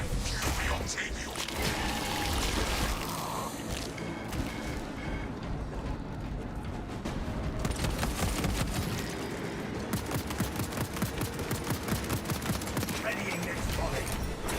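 Space Marine 2 gunfire volley: rapid, evenly spaced sharp shots rattle through the second half after a rougher stretch of battle noise, loud and close, with voices speaking over it.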